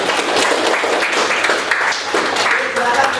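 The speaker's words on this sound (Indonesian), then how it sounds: "bila beri tepuk tangan" A classroom group claps steadily in a dense, continuous wash of applause during a teaching practice session, with voices mixed in throughout.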